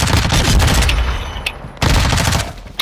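Automatic weapons rattle in rapid bursts during a multiplayer shooter match, loud and close, with a short lull before another burst of gunfire.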